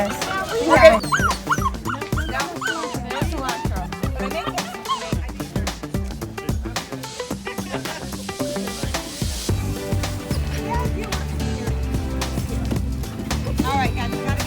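Puppies yip, bark and whimper in short bursts while a person talks over them nearby.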